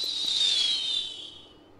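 Archer Queen attack effect from the Clash Royale mobile game, heard alone as a bright shimmering whoosh that is already loud and gradually fades away within two seconds.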